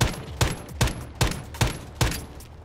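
Video game gunfire on a Blacksite map: six heavy, evenly spaced shots or short bursts, loud and close, each with a ringing tail, no talk.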